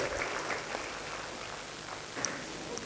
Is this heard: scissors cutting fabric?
no